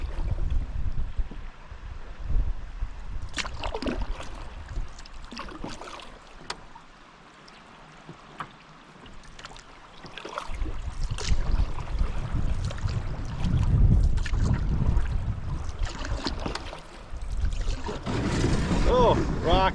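Gusty wind buffets the microphone during a back-country canoe trip, rumbling strongly in heavy bursts that ease off midway and then return, with water sloshing and people talking.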